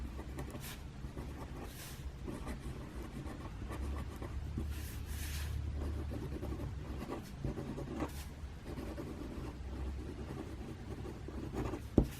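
A pen scratches on paper in quiet, steady strokes during a calm drawing session, faint and close over a low background rumble.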